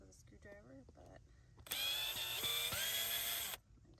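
A new power drill whirs loudly for about two seconds with a steady high motor whine that dips slightly mid-run, after brief speech.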